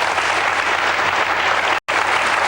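A TV studio audience applauds in a dense, steady burst of clapping, loud and close, that cuts off with a brief gap near the end and then resumes.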